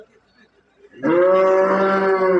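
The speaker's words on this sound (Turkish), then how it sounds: "Bir de şurada ufak inek var." A cow at a livestock market lets out a loud, close moo lasting over a second, after a moment of faint background murmur.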